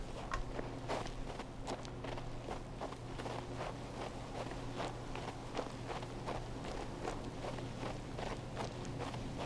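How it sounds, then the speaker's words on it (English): Steady crunching footsteps on snow in the video game King's Bounty II, a regular walking rhythm of soft compressed crunches under a constant low ambient hum, close and moderately loud throughout. "I quite like the walking on snow, the footstep effect"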